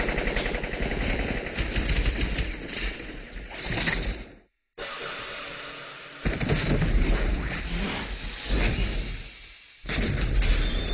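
Firing squad gunfire in a French-dubbed Hellsing anime episode, loud sustained bursts of rapid automatic shots broken by brief pauses, close and dense throughout.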